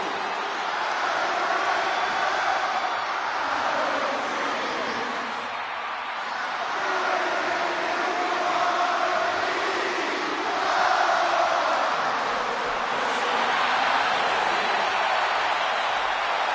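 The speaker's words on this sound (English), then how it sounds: "this capacity crowd just exploded" A capacity arena crowd in the WWE 2K26 wrestling video game keeps up a sustained, swelling roar of cheering throughout, with no clear voice on top.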